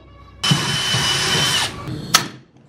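A power drill whirs loudly for about a second near the microphone while a vehicle dash is being modified, then stops, followed by a short second burst.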